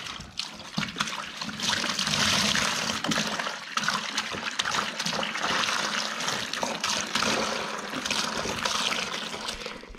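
Liquid wall primer for plastering in an old house under renovation pours steadily into a container, a loud continuous splashing trickle that runs through the whole stretch without talk.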